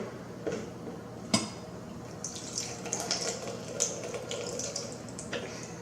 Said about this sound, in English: I'm going to pour out some of the water here